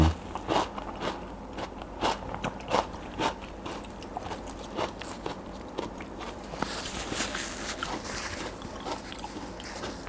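Raw Thai eggplant is bitten and chewed alongside a very spicy som tam meal, with repeated close, crisp crunches at an irregular pace, then softer steady chewing.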